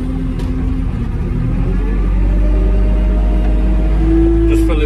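A concrete lorry running loud and close as it is filled with sand and gravel, a heavy steady engine drone and rumble with a shifting mechanical whine, no talking.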